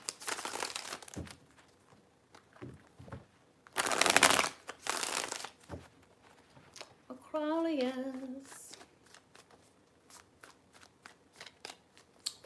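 Tarot cards riffle and slap together in several brisk, close shuffling bursts, with a short spoken word in between and a few light card taps toward the end.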